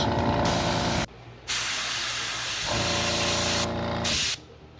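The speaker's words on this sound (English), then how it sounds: "I'm gonna airbrush just a tiny little bit of the color." An airbrush sprays Createx candy yellow-orange paint in short hissing bursts, two longer sprays separated by brief pauses, close and loud, with no talking.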